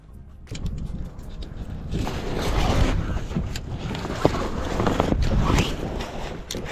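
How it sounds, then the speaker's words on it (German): Mainsail and boom being rigged on a small sailing dinghy outdoors, with steady wind buffeting the microphone, rustling sailcloth and a few sharp clanks of fittings up close. "Und schlag das Groß wieder an. Baum kommt wieder rauf."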